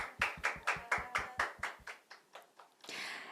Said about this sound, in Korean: 여러분 다시 한번 뜨거운 박수를 보내주시길 바랄게요